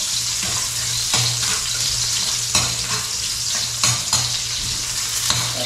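Chopped garlic sizzles steadily in hot oil in a pan, with repeated scraping stirs from a spatula cutting through the continuous frying hiss, close and fairly loud with no talking.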